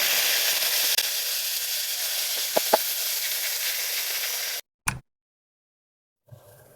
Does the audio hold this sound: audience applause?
no